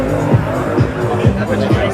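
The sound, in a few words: drift car doing doughnuts, tyres squealing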